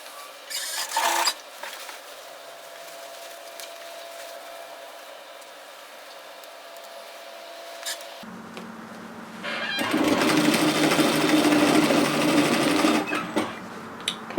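A sewing machine stitches a dress seam, running steadily and loud with a brief start near the beginning, a quieter stretch, then a longer fast burst of stitching later on.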